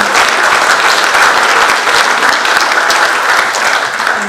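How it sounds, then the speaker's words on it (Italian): Audience at a book presentation applauds in a sustained, dense burst of clapping, loud and even across the whole stretch, without talk. "a cui farei un applauso, insieme anche a Claudio Paolo."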